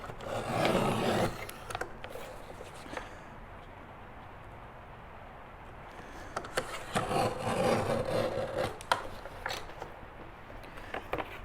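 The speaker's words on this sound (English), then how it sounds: "So just trimming it down to be 5 by 7." A paper panel for a wrap-around nature notebook album is trimmed down to 5 by 7, heard as close, scratchy cutting strokes in two bursts separated by a quieter stretch.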